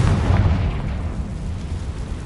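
Confringo spell explosion in Hogwarts Legacy on PS5, a loud deep booming blast that rumbles and fades into a sustained low roar.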